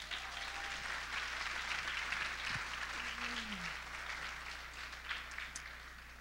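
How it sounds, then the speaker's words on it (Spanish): A church congregation gives a long, steady burst of applause, a dense wash of many hands clapping together with a low hum underneath and no talking over it. "Denle un fuerte aplauso a Dios."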